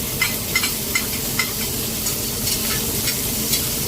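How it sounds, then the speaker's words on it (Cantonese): Chopped scallions sizzle steadily in hot oil in a wok over high heat, a dense continuous hiss broken by light stirring scrapes and small crackling pops. "跟住就放入蔥花，"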